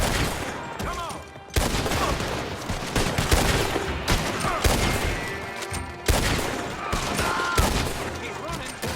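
Gunfire from gunmen in the video game Red Dead Online rattles in dense repeated bursts of shots, loud and continuous, mixed with game voices and shouting.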